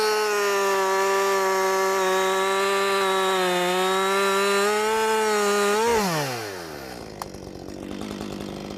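A chainsaw runs at steady high revs while cutting into a tree, a loud buzzing whine that holds for about six seconds, then drops sharply as the engine falls back to a rough idle, with a single knock near the end.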